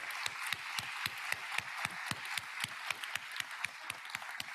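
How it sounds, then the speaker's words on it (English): Audience members at an education forum panel discussion clap in a steady, rhythmic unison beat, the sharp evenly spaced claps sounding fairly faint and slightly distant. "A big round of applause to all of them."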